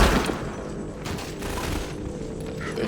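Gunfire in Half-Life 2: Lost Coast comes as a dense, continuous fusillade of overlapping shots mixed with game noise, with no clear gaps between them.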